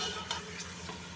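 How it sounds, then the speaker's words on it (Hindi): Meat frying in a pan with garlic and ginger paste for a brown masala biryani, a steady close sizzle with soft stirring scrapes throughout. "लहसुन अदरक के साथ हमें इसको 4 से 5 मिनट तक अच्छे से फ्राई करना है"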